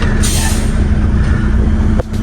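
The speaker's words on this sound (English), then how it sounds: "The tires are spinning because it's" Semi truck stuck in place with its tires spinning, a loud steady engine roar and grinding churn throughout, ending in a brief hiss-like break near the end.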